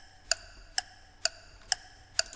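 Five crisp, evenly spaced clock ticks used as an effect in an electronic music track, one about every half second, bright and metallic over a quiet background.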